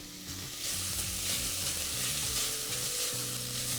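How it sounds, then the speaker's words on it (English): Red Thai curry paste toasts in a pan with a loud, continuous frying hiss, while low background music plays underneath. "red Thai curry paste. You want to make sure you toast that in the pan."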